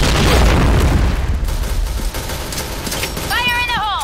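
A loud grenade blast in a video game, opening with a heavy boom that decays into rumbling noise, followed by fainter crackling and a short rising-and-falling electronic tone near the end.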